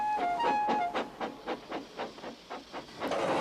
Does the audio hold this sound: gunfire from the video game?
no